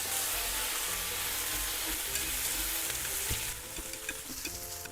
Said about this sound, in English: after about 3-4 minutes of stir frying like this, the eggplant's been cooked